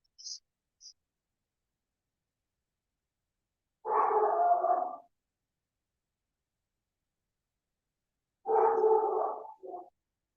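A puppy barks and howls at activity next door in two drawn-out bursts a few seconds apart, each about a second long and fairly near, with a couple of faint high clicks before.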